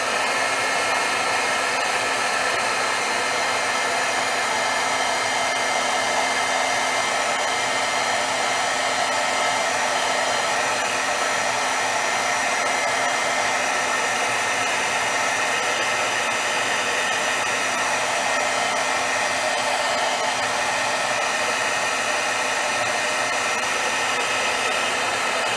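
Heat embossing tool blowing hot air, a continuous loud, close, steady fan whoosh that holds unchanged throughout with no voices.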